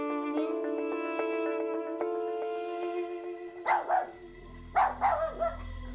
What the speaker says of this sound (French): d'où peuvent bien surgir ces aboiements de petits chiens?